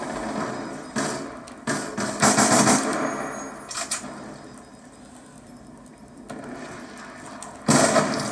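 Shotgun blasts and gunfire in the video game Call of Duty Black Ops 2, several loud bursts spread unevenly across the stretch, with quieter game noise between them.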